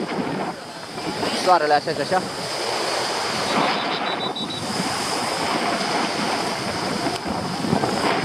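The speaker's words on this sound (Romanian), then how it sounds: "vântul bate" Steady wind roars across a microphone by the Black Sea at the Eforie Nord pier, with surf washing underneath while a person speaks briefly over the blustery noise.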